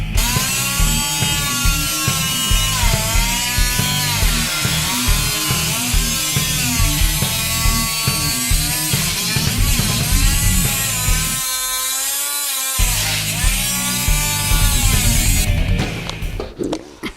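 A power tool whines steadily while cutting out rusted car floor metal, its high pitch wavering as the blade bites, with a brief drop-out partway through before the cut resumes and winds down.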